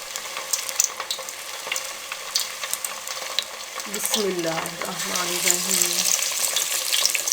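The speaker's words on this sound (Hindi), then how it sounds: "अब इसको हम फ्राई करेंगे।" Fish sizzles in hot cooking oil in a pan, a steady crackling fry with sharp pops close up; someone speaks a short phrase over it partway through, and the sizzle grows louder and denser toward the end.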